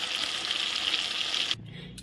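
Pieces of rohu fish fry in a pan with a loud, dense hiss of sizzling oil close up that cuts off suddenly near the end, leaving a quieter low hum.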